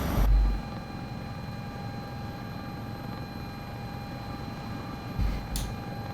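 A Sikorsky S-76 helicopter engine drones in Microsoft Flight Simulator 2024. The whine and rumble are steady and constant, with a faint tonal hum and a couple of brief louder thumps near the start and end.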